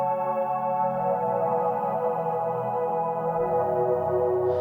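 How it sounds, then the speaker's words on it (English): Choir-like synth pad preset from the Supernova pack, sustained and layered with stacked harmonic tones and a long reverb tail, playing steadily alone with no talking. "I've got this preset pack called Supernova that has some really cool pad sounds"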